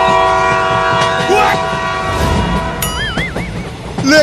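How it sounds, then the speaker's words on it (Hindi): Cartoon train rumbling along with repeated wavering horn blasts, loud and close, in short bursts over steady running noise, a voice briefly heard. "और तेज चलाओ ट्रेन को चिंटू"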